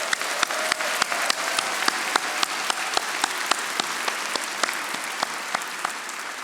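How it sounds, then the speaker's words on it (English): A graduation crowd at an MBA executive ceremony claps for family members in the audience, a sustained, loud wash of many hands with a few sharp, regularly spaced accents standing out from the nearest clappers. "Would you please join me in a round of applause for those loved ones who are here?"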